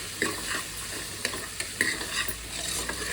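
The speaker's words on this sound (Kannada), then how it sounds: "ಇವಾಗ ಕಾಳೆಲ್ಲ ನೋಡಿ ಚೆನ್ನಾಗಿ ಎಣ್ಣೆಲಿ ಫ್ರೈ ಆಗಿದೆ" Brown chana frying in oil in a pan, stirred with a spoon: an even sizzle under scattered scraping strokes and light metallic knocks, close and moderately loud, with no voices.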